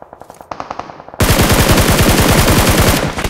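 Rapid gunfire rattles from a mobile battle royale game during scrims and tournament play, first spaced shots, then a loud, dense automatic burst that runs on to the end.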